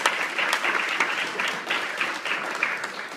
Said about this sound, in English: give him a big hand of applause.